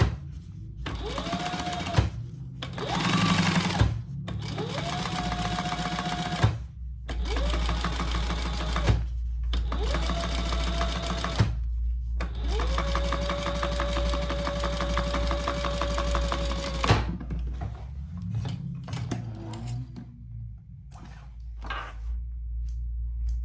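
A sewing machine top stitches a shoulder bag lining in several steady whirring runs, a long continuous stretch among shorter bursts, with brief pauses between them.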